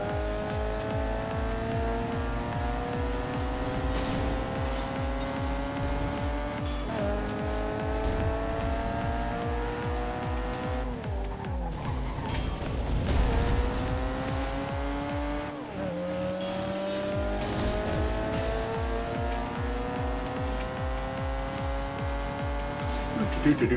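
Engines roar and tires squeal continuously as cars drift in the Namco Bandai racer Ridge Racer Unbounded, a loud, steady mix of revving and screeching with a swell near the middle.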